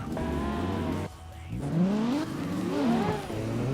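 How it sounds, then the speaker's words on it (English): A Ronin car engine in the CarX Drift Racing video game revs hard and swings up and down in pitch, close and loud, with a short dip partway through before it climbs again. "Oh, there's a Ronin, that's what it sounds like."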